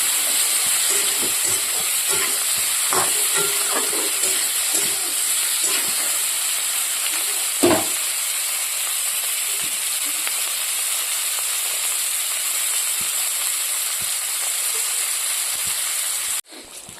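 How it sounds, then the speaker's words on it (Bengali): Fish frying in hot oil in a pan, a steady loud hiss and sizzle that continues evenly throughout, with a few faint clinks and a brief knock midway. "এদিকে বসিয়ে দিয়েছি মাছটা ভাজার জন্য।"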